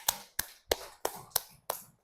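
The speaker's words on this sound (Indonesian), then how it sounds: "Beri tepuk tangan untuk masing-masing kelompok." Six sharp, evenly spaced claps ring out one after another in a classroom as students applaud each group, each crisp hit standing alone with short gaps between.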